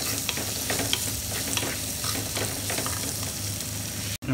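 Small shallots hissing in hot oil alongside green chillies for a sardine masala fry, stirred with soft scraping under a steady sizzle that cuts off abruptly at the end.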